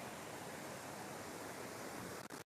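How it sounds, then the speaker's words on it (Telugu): Duduma waterfall rushing among large boulders, a faint, steady broadband roar of falling water with no pauses and no voices. "ఇదిగో మీకు వాటర్ ఫాల్ సౌండ్ అయితే వినిపిస్తుంది అనుకుంటున్నాను"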